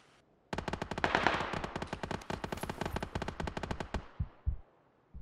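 Automatic gunfire in the PUBG battle royale game rings out in a rapid, loud burst of sharp shots lasting several seconds, then a few slower, spaced shots as the firing trails off.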